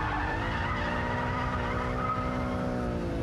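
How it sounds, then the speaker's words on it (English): A car slides in a controlled drift as its tyres skid and squeal continuously against the tarmac, mixed with a loud, sustained engine drone that runs the whole time without pause. "turn hard, get the back out, pick up the throttle."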